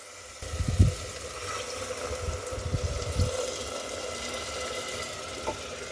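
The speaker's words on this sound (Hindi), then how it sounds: "अब हम इसमें पानी डालेंगे ग्रेवी के लिए।" Water is poured into mushroom masala inside a pressure cooker, a close, gurgling splash that swells and dips unevenly for several seconds before easing off.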